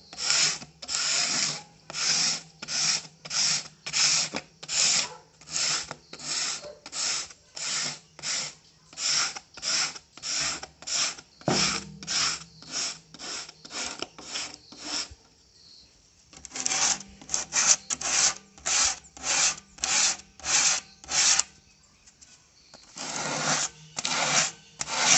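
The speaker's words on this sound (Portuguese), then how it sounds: "agora eu vou dar vou lixar superficialmente, só para aparecer um pouquinho assim da madeira por baixo" Sandpaper rubs lightly over the painted wood of a small decorative table in quick, regular back-and-forth strokes, pausing briefly twice before starting again, close up and without talk.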